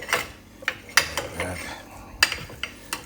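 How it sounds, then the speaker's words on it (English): A metal spatula presses and scrapes Chinese takeout-style special fried rice into a bowl, giving a series of close clinks, scrapes and soft pats in an uneven rhythm. "Flatten the rice down with your spatula."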